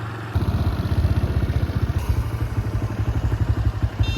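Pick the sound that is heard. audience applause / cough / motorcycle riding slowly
motorcycle riding slowly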